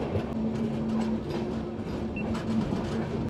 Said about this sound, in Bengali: লাইনে ট্রেনের গতিবেগ 20, 25, 30 এরকম থাকে